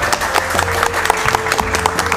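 A class audience at a phone repair training session gives a brief round of loud, close clapping with some crowd noise and voices underneath.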